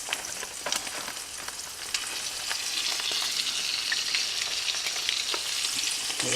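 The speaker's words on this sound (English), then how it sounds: "Start popping and splattering everywhere." Steady, dense sizzling of chicken pan frying in hot oil, with frequent sharp pops and spatters crackling throughout, close and fairly loud.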